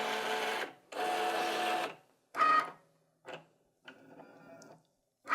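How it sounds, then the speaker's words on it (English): A Cricut cutting machine scans the black print-then-cut registration marks on a loaded mat, giving short mechanical whirs and motor runs broken by pauses and faint ticks, quiet and close. "now the machine is using this little light to detect where these black lines are"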